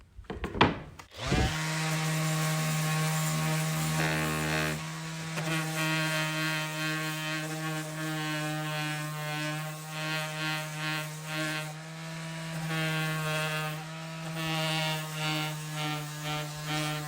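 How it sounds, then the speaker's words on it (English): An electric sander grinds steadily over wood bearing a burned-in branding-iron logo, starting up abruptly and holding a loud, even hum with slight wavering as it moves across the surface. "But what I'm gonna do is hit it with that sander"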